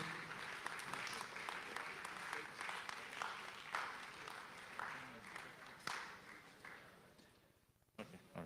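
Audience applause fills a hall at a 2023 economic summit, a steady wash of clapping that runs for several seconds, thins out near the end and has a speaker's voice over it.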